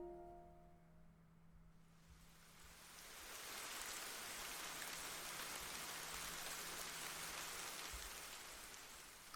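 Rain in the Ender Lilies video game starts softly under fading musical tones, then swells into a steady, dense patter that continues to the end.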